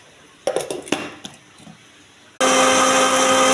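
Grapes rattle and clink into a mixer grinder jar in a few short knocks, then the motor starts abruptly and runs loud and steady, a high whirring roar that blends the juice until the end.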